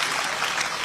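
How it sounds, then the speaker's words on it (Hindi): An audience at a poetry recital applauds in a dense, steady wash of clapping, fairly loud and continuous for a brief moment, with no talking over it. "जोरदार तालियां बजती रहनी चाहिए"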